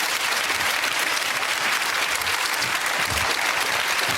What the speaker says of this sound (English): give me a round of applause, ladies and gentlemen